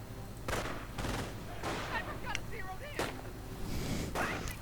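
Sniper fire from a war strategy video game with airborne troops and recoilless rifles: several sharp gunshot cracks, about five spread across a few seconds, over a busy battle backdrop with no talking.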